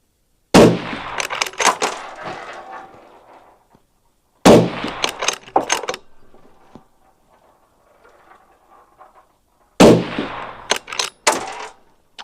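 Three loud rifle shots with Precision Hunter ammunition ring out several seconds apart, each a sharp crack followed by a rolling echo that fades into quiet outdoors.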